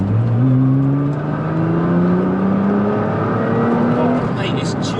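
Nissan GTR accelerating hard: a loud engine note rising steadily in pitch with turbo whine building on top, heard from inside the car with road and wind roar underneath.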